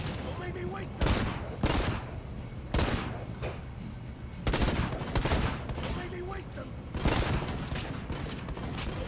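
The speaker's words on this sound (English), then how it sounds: "Those machine guns are an issue." Bursts of machine gun fire in the video game Necromunda: Hired Gun, several loud rapid volleys repeating across the clip over a steady background hum.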